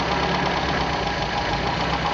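An MG engine fed by HIF carburetors, tuned slightly lean, runs at a steady idle, a loud, close, continuous throbbing rumble with fine rhythmic knocking and no voices over it.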